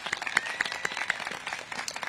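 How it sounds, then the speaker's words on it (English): Quiet applause from an audience at a school playground ribbon-cutting, scattered individual claps standing out over a soft, uneven crowd clatter, fairly distant and brief. "also another round of applause for our educators, our school leaders, our parents and guardians that support the families here at Oyster-Adams"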